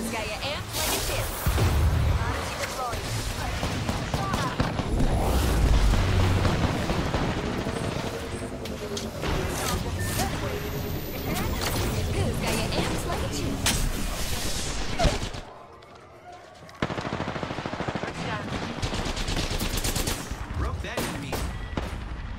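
Gunfire from an Apex Legends match, dense bursts and rapid shots running through most of the stretch beneath steady talk, dropping out briefly near the end before resuming.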